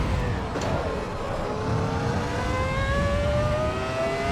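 A Ferrari F2004 Formula 1 car in Assetto Corsa EVO screams along the Nordschleife, its high-revving engine a loud, steady whine with harmonics rising slowly as it accelerates, with no talk over it.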